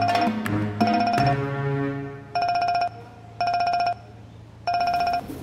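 A phone rings in repeated electronic bursts, each lasting about half a second with short gaps between them, loud and close, following a brief clatter at the start.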